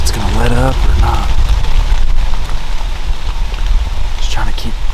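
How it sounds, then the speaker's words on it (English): Heavy rain pours steadily outdoors over a field during a November deer hunt in Ohio, a continuous dense hiss throughout, with someone talking intermittently over it. "all this rain"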